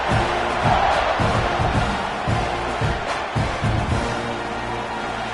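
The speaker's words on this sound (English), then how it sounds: "this crowd is feeling themselves after that last drive" A football stadium crowd roars and cheers in a dense, sustained wash of voices, loud and continuous, with scattered whoops and shouts rising out of the din.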